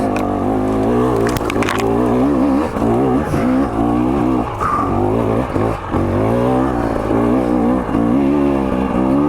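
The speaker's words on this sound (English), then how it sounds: "Love doing that on a two-stroke, just feeling that thing go and just gutting it out up a hill." Two-stroke dirt bike revving hard on a hill climb over roots and rocks, its engine droning continuously and loudly with rising and falling pitch through the whole stretch; no talk.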